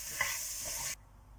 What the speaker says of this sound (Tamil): நல்லா கலந்து விட்டுடலாம்.